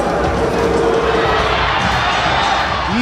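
Stadium crowd at the Coloso roaring and cheering a third goal in a Salvadoran league football match between Atlético Marte and C.D. Águila, a loud dense wall of shouting and applause throughout.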